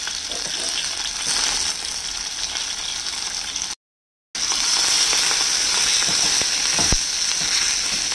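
Coriander and turmeric powders sizzle and fry steadily in a hot pan for Patiala chicken, a loud, continuous crackling that cuts out briefly midway and then resumes.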